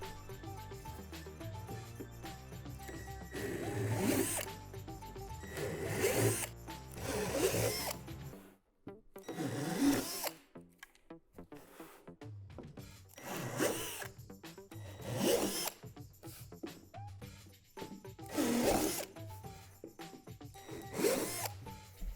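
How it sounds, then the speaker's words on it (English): Repeated bursts of drilling with a 3/8 drill bit through a plastic swing set slide, roughly six or seven separate passes of a few seconds each, close by, with brief pauses between them. "With a 3/8 drill bit, drill out the 4 holes on each half of the slide."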